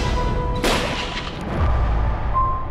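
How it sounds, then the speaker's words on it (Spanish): A single sharp revolver gunshot cracks out in a reenactment, loud and close, followed by a short fading boom and low rumble. "Entonces me asusté y saqué el revólver y disparé."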